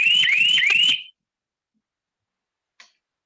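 An electronic buzzer alarm on an agricultural sprayer, used to frighten wild animals away from crops, gives a loud, close warbling siren-like tone for about a second, then falls silent apart from one brief faint chirp.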